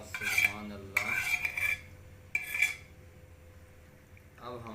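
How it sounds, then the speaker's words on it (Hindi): A metal spoon clinks and scrapes around a pot while sago pearls are stirred into warm milk, in several short bursts separated by quieter pauses. "अब हम इसको अच्छी तरह मिक्स करेंगे दूध के अंदर"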